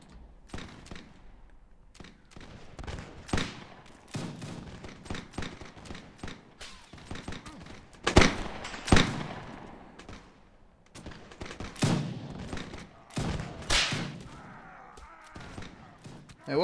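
Musket gunfire in a Mount&Blade battle: scattered sharp shots and thuds at varying distances, some near and loud, others distant, spread irregularly across the scene under someone talking.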